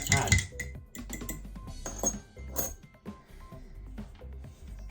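Beer finings being whisked in a container while bottling a New Zealand IPA, giving a busy run of clinking and scraping taps, fairly close, with a few louder knocks near the start and faint speech mixed in.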